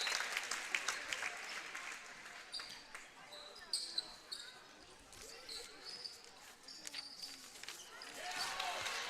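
Crowd applause for a senior player on senior night at a North Dakota girls basketball game, scattered clapping and cheers filling a gym with sneaker squeaks and a commentator talking over it.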